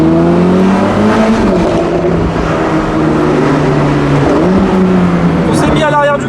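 Engines roar from a large convoy of supercars that includes a Porsche Cayman GT4. They hum and rev steadily in the background while people talk loudly over them throughout.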